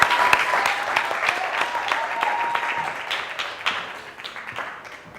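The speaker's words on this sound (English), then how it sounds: "let's give a huge round of applause to Phyllis and welcome on Alfred" A school quiz competition audience gives a steady, full round of applause that holds for about five seconds before thinning out, with a faint tone running underneath.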